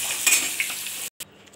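Slices of pointed gourd (potol) fry in hot oil in a pan, giving a steady, close hiss with a few scraping stirs, broken by a brief silent gap near the end.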